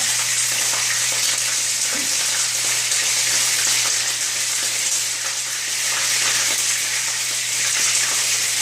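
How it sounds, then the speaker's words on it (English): Loud, steady sizzling of chicken frying in hot oil, a dense crackle with occasional pops, heard close up with a low hum underneath. "Definitely hear the sizzle."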